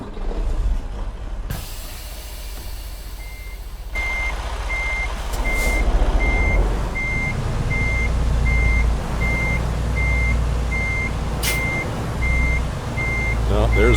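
Reversing truck in American Truck Simulator, a regular high beeping repeating about once a second over a steady low engine rumble, with brief hiss and clunks, continuing for most of the stretch.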